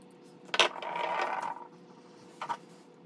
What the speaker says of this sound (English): you can see the detent that the ball sits in cause that satisfying